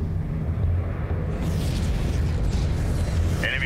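Artillery shells exploding in the real-time strategy game Homeworld: Deserts of Kharak, a continuous deep rumbling barrage with rolling low booms and a brighter crackle partway through, steady and loud throughout.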